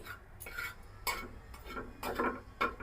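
Cumin seeds and asafoetida being stirred in very hot oil with the gas turned off, a series of close metallic scrapes and taps of a spoon against the pan over a faint crackle, in uneven bursts.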